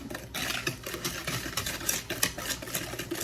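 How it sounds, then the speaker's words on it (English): Cake batter whisked in a bowl, a quick steady scraping and tapping of the whisk against the sides, close and moderately quiet with no talk. "we are going to whisk it together until"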